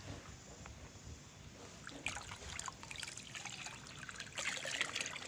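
Molasses being stirred into an E4 solution, with soft liquid trickling and sloshing that grows busier and more splashy partway through, moderately close, with no voices.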